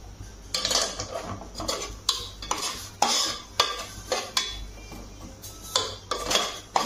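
Roasted chutney sautéed in oil for spicy mutton, a spoon scraping and clanking against the pot in regular strokes roughly every half second over a soft sizzle, close and clear with no voices.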